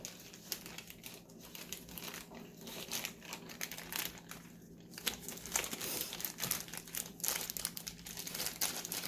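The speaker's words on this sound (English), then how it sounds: "Let me put this in its rightful place. Back in the bag and back in the freezer." Plastic freezer bag crinkling and rustling steadily as cooked goat meat is packed back into it for the freezer, a close, continuous crackle with no speech.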